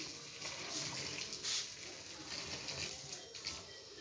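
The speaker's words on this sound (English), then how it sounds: "I'm going to pour hot water on it now and see how it goes." Hot water is poured onto kilishi, a spiced dried meat, sitting in a container, giving a faint, soft, continuous trickle and splash with no talking.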